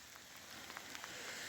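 Light rain falls steadily near a house along a walking route in France: a soft, even wash of patter with a few faint drops standing out, quiet and without voices.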